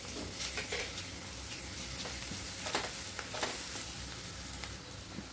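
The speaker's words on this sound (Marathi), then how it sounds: "कांदा परतत असताना त्यामध्ये आलं लसूण पेस्ट घालून घ्यायची" Onion sautéing in a pan with ginger-garlic paste for a Vidarbha khandoli bhaji, a soft continuous sizzle broken by occasional scraping stirs, close but fairly quiet.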